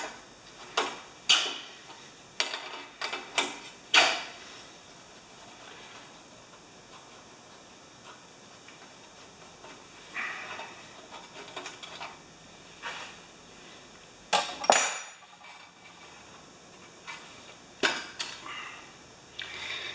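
Someone works on the carburetor of a Mastercraft 8-26 snowblower to pull off the float bowl. Faint, sparse metallic ticks and clicks come close by, with short scraping and hissing bursts between long quiet gaps.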